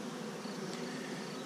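Honey bees buzz steadily at close range during a hive inspection, a dense, continuous hum that holds level without a break and with no talking.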